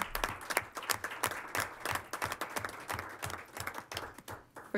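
A room at a city council regular meeting gives a Boy Scout troop a brisk round of applause, many hands clapping in a dense, moderately loud patter.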